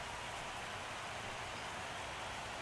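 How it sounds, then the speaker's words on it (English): Steady rain hiss during a ballgame in MLB The Show 17, a dense even wash of noise with no breaks and no voices on top. "Jock Peterson turns on a pitch from Edwin Diaz and sends it into the seats in the rain."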